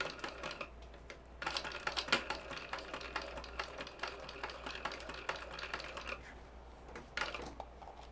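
A sewing machine stitches down a zipper tab on a wristlet, its needle chattering in quick, uneven bursts with short pauses between runs, faint and close with no talking.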